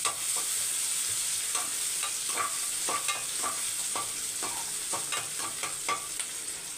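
Chopped garlic fries in the same oil left from frying chicken, crackling with a steady sizzle while a utensil stirs and scrapes the pan in repeated clicking strokes.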